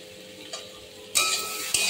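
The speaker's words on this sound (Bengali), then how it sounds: "আর একটু নেড়ে চেড়ে নিচ্ছি।" Elephant foot yam and fish curry stirred in a pan, starting with quiet low sizzling and a few soft scrapes, then breaking into a loud bright frying hiss, with a sharp spoon clink near the end.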